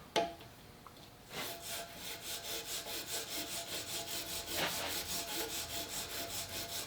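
A woodworking chisel held in a honing jig rides back and forth on a hone with a wheel underneath, giving a steady rhythmic scraping rub, about a dozen even strokes after a brief start, close and fairly loud with no talking.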